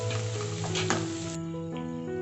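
Chicken sizzles steadily in a pan with spices, a close, continuous frying hiss with a brief stirring scrape partway through.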